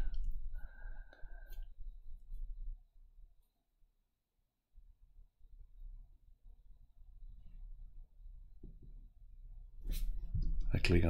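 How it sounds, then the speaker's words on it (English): Computer mouse clicks at a desk, a few quiet, sparse taps separated by near-silence, with faint murmured speech in places. "I click on the good spot"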